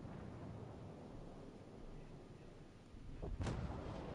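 Torpedoes striking a ship in World of Warships, a low rumbling wash building into a sudden loud impact burst near the end, with no talk over it.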